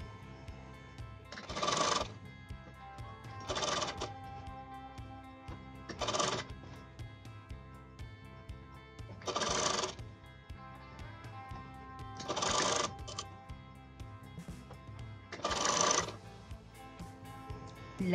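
A sewing machine stitches a strip on a cold shoulder top in six short bursts of rapid mechanical whirring, each separated by a quiet pause with a faint low hum.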